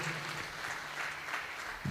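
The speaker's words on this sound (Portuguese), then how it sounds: "E eu gostaria que você aplaudisse Jesus pela vida do missionário Nelson e a Letícia," Church congregation applauding during a Sunday service, a steady, even roar of many clapping hands heard from a distance and fairly faint.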